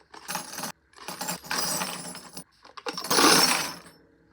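Metal zipper pull tabs clatter and jingle in several loud, tumbling bursts, a dense chinking spill with short pauses between.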